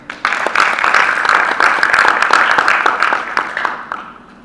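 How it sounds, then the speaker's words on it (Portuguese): An audience claps for a performer named Jéssica at a theatre talk: a burst of brisk, overlapping handclaps starts abruptly, holds for about three seconds and thins out toward the end. "Palmas para Jéssica."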